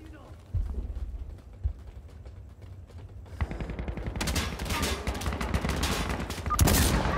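Mosin rifle shots in the video game Insurgency Sandstorm, a couple of sharp cracks early on, then dense overlapping gunfire and battle noise building up, loud and continuous toward the end.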